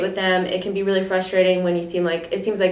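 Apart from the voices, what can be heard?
No everyday noise stands out behind the speech.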